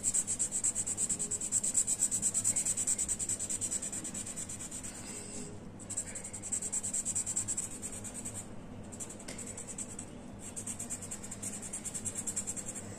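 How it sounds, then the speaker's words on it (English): A red sketch pen colouring in a fish drawing: a continuous soft scratchy rubbing of felt tip on paper, quiet and close, with brief pauses between strokes. "We are going to color this fish with red sketch pen."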